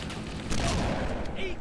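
Rainbow gun firing in the game Cursed Halo, a short, punchy discharge that jumps in partway through over a busy game background, followed by a faint whistling effect trailing at the end.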